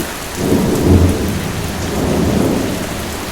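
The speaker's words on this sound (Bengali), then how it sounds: "মুসল ধারে বৃষ্টি" Heavy, steady rain pours down in a storm as a Bengali audio drama effect, with low thunder rumbling beneath the hiss of the downpour.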